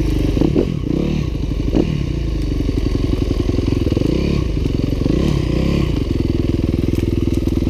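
A 2015 Yamaha WR250F enduro motorcycle ridden off-road on trails, its engine droning loud and close throughout with rising and falling revs, plus clatter and scraping from the terrain.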